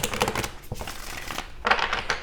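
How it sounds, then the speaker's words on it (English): Several tarot and oracle decks, including Gilded Tarot and Ethereal Visions cards, are shuffled by hand in quick riffling bursts of papery flicks and taps, close and fairly soft, with a brief pause before a final burst. "Let's go ahead and get a shuffle in here."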